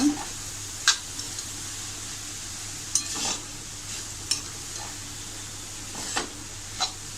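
Drumstick vegetable (shevga) with grated fresh coconut and oil is sautéed in a pan, giving a soft sizzle under scattered sharp clinks and scrapes of a spoon against the pan.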